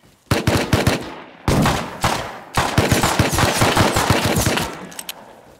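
Bursts of automatic gunfire in the survival video game Rust, loud, close rapid volleys with short gaps between strings of shots, no talking.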